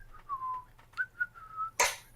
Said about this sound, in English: just whistling off to yourself